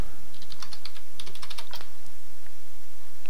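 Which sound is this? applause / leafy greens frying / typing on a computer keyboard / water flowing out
typing on a computer keyboard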